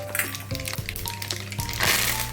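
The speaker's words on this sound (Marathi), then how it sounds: "ते तापलंय तर मी आता मोहरी घालते, जिरे" Mustard seeds and cumin crackle and sizzle as they hit hot oil in a pan while cooking a bhaji, a dense close frying hiss with sharp popping bursts and faint utensil clinks throughout.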